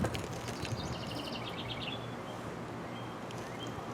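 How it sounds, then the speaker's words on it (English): Faint birds chirping outdoors, a few quick high tweets and short trills over a steady low background hum, fading after the first couple of seconds. "Can you hear the birds?"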